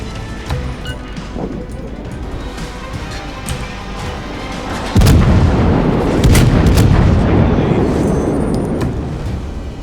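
Naval gunfire in the video game World of Warships: loud booming cannon shots and crashing impacts over steady battle rumble, intensifying into a heavy barrage halfway through.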